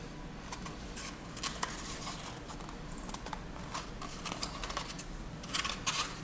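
Scissors cutting a circle out of folded paper, with a steady series of short, close snips and paper rustling throughout.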